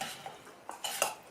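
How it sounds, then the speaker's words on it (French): Green beans and potatoes are mixed for a potato salad, giving a few quick, soft clinks and scrapes of a utensil against a bowl, close and alone. "mélanger le haricot vert na pomme de terre"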